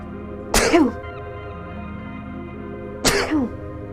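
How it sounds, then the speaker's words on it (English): Two abrupt, explosive sneeze-like bursts, close and loud, about two and a half seconds apart against a quiet background. "I think I'm going to sneeze."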